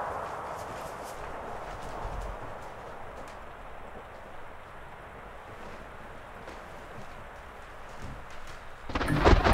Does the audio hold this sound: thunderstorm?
yes